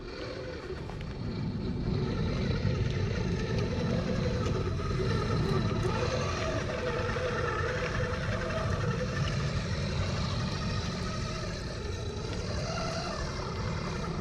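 A Ripsaw tracked vehicle drives and climbs a hill, its engine a continuous loud roar with a rumbling, rattling low end that holds steady throughout after a brief quieter start.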